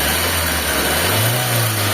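A Mitsubishi Lancer with a 4G15 engine, formerly knocking, idles and then revs up briefly, a smooth mid-pitched engine hum rising in pitch near the end, close and alone without talk.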